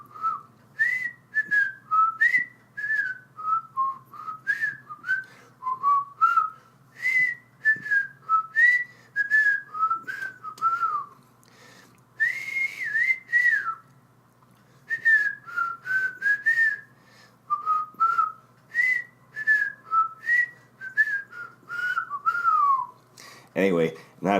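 A lone person whistles The Andy Griffith Show theme tune, clear melodic phrases with short breaths between them, close and unaccompanied, ending with a brief noise.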